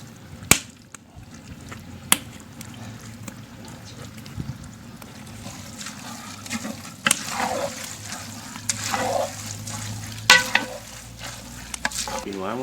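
Red and green bell peppers and garlic fry in a pan with a soft, continuous sizzle, broken by sharp clanks and scrapes of a utensil stirring, close and moderately quiet.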